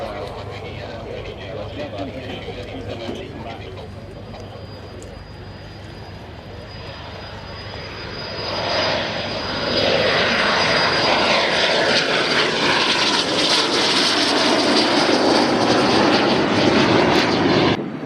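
Engines of an Albatross aircraft drone over the RIAT 2014 airshow, the roar swelling from a distant hum to a loud, sustained pass, with a voice talking over it.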